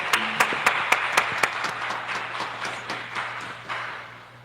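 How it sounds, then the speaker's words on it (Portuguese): A church congregation at a healing and deliverance service breaks into scattered, irregular clapping that thins out and fades over a few seconds, over a steady low hum. "que você possa aplaudir o Senhor pela vida dele"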